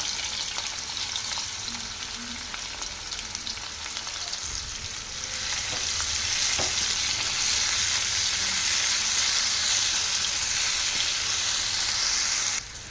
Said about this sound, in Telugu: ఆయిల్ హీట్ అయిన తర్వాత దోసకాయ ముక్కలు వేసేసుకోవాలి